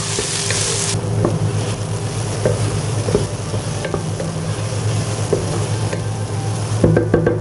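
Capsicum stirred into mutton keema frying in a pan, with steady loud sizzling and repeated scraping stir strokes throughout and a few sharper clinks near the end, no voices.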